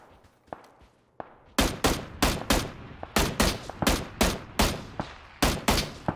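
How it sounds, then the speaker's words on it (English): Rapid gunfire in the video game PUBG: a few isolated shots, then a dense run of about fifteen sharp, loud bursts in uneven rhythm. "I'm being shot to the right as well."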